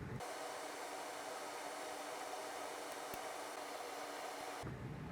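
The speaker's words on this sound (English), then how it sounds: "we're gonna apply low melt solder, fume extractor on" A fume extractor fan runs steadily during low-melt solder work on a PS5 console repair, a constant close airy whoosh that cuts off just before the end.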